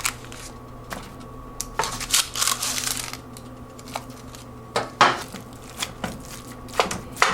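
Cubed butternut squash, skin removed, tumbles and scrapes into a pan of sautéed onion, apple and sage, giving a series of irregular close knocks, clatters and scraping bursts over a low steady hum.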